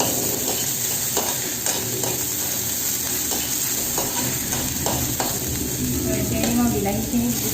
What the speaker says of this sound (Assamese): এতিয়া তেলত দি দিম অলপমান পিঁয়াজ এতিয়া ইয়াত দি দিওঁ মই অলপমান আদা নহৰু পেষ্ট